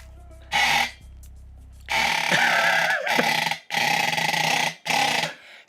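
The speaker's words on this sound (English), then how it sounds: "They liked the weird duck sound better than just like the weird other mount I had." A camera gimbal motor produces a weird duck-like quacking effect: several loud, buzzy honking bursts of about a second each, separated by short gaps, heard alone without talk.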